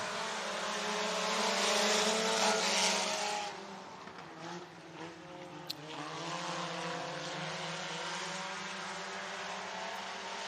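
Sport compact race cars roar off the green flag on the dirt track at Boone Speedway in Boone, Iowa: a loud, distant engine drone swells, eases, then holds steady as the field pulls away.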